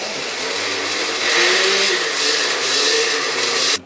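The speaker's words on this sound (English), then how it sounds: "the blender's not really catching all the meat and stuff" A blender whirs steadily through a mango habanero sauce with meat, a loud continuous motor drone with slight shifts in pitch as the contents churn, no talking.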